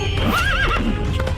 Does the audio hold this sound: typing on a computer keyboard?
no